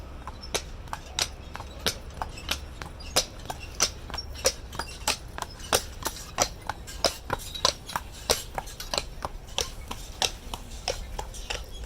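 Steady clip-clop of a large horse's hooves on pavement at Disney's Port Orleans Riverside, a brisk even rhythm of sharp knocks over a low traffic rumble.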